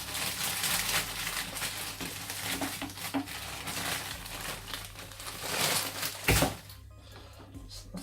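Spinach leaves tipped from a plastic bag into a cooking pot, giving a close crinkling rustle of plastic and soft leafy patter over several seconds, with a brief louder knock near the end.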